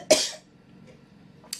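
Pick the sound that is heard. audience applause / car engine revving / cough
cough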